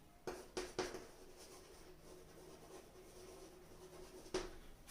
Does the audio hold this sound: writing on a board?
yes